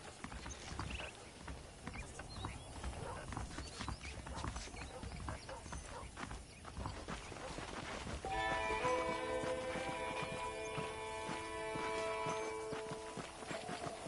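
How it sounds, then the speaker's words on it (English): Horses' hooves clip-clop at a steady walking pace in the Western video game Red Dead Redemption, mixed with ambient outdoor sound and, partway through, sustained musical tones layered over the steps. "The horses are saddled up over here."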